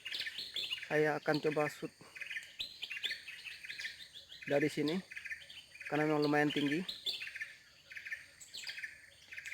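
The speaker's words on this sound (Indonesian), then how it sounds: "Ada burung rangko begitu banyak, bermacam-macam burung." Many kinds of birds chirp busily in a banyan tree, a continuous chorus of high tweets and calls, with someone talking over them in several stretches.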